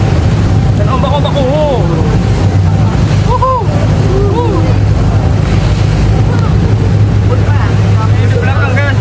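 A boat rides over sea waves off the Penghu islands of Taiwan: a steady, loud rush of wind and water with a low engine drone throughout, and voices talking over it.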